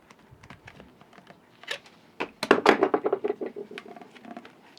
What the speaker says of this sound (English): now that it's soft, I'm going to cut it out